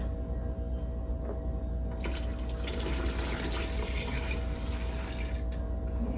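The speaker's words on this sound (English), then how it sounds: "I'm going to add 7 more cups of water to this." Water streams from a tap into a pot while homemade liquid laundry detergent is being made from bar soap, a steady close splashing fill that swells after a quieter start, with no talk.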